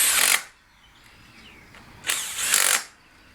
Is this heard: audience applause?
no